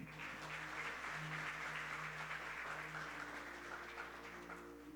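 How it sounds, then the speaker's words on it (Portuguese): A church congregation at a family service applauds, a soft, steady wash of clapping heard from a distance, with a low hum of sustained tones beneath it. "Você pode aplaudir?"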